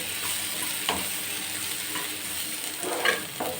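Chopped onions fry steadily in a pan, a continuous soft hiss with faint scraping and stirring clicks, heard alone with no one talking.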